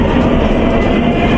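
A train on the Vizag to Araku line through the Eastern Ghats rumbles loudly and steadily just before entering a tunnel, with a constant low roar and faint rhythmic wheel clatter.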